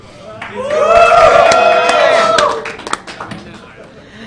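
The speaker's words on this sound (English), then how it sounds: "Give a cheer for the two players here." Audience at a StarCraft match on Shakuras Plateau cheering and clapping for two players: a swelling crowd roar with scattered claps that peaks for about two seconds, then fades to a few stray claps.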